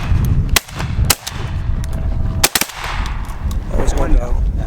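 Shotgun blasts fired at flying Canada geese during a late-season goose hunt, several loud sharp reports in quick succession, with a pause before a later pair, over steady wind and field noise.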